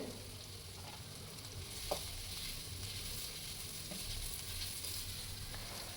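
Curry leaves crackle and sizzle in hot oil for radish chitranna as a soft, steady frying hiss with a few faint pops, quiet and close, with no speech.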